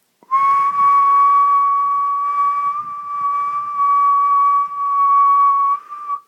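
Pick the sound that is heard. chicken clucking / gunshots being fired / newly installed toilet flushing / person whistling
person whistling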